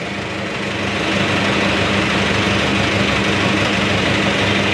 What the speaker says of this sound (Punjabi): ਵੱਡਾ ਟਰੈਕਟਰ ਹੈ ਕਿਸਾਨ ਵੀਰੋ